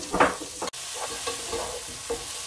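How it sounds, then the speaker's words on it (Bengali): Broccoli and mushrooms fry in a pan with a continuous close sizzle, while a utensil stirs with brief scraping strokes. "এই হলো আমার ব্রোকলি অ্যান্ড মাশরুম। এটা ভালো করে আমি একটু ভেজে নিচ্ছি।"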